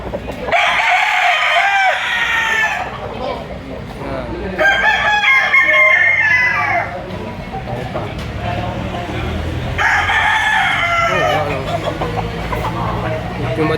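Several gamefowl roosters crow loudly in a farm setting, three long cock-a-doodle-doo calls spaced a few seconds apart, with clucking and other bird sounds between them.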